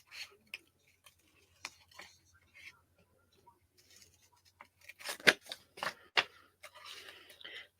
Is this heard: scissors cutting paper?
yes